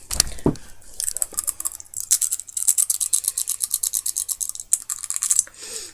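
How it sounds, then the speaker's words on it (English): Fast, faint clicking and rattling of fresh tongue piercings knocking against teeth, rapid irregular ticks heard close up in bursts. "My tongue piercings are only about 6 months old. They're relatively new piercings, but they they click when I talk. They make this noise."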